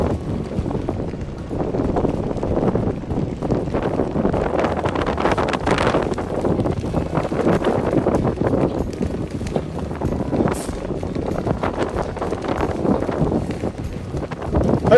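Steady wind buffets the microphone on the deck of a Seawind 1170 catamaran, a continuous loud rumbling roar with gusty swells and no speech throughout.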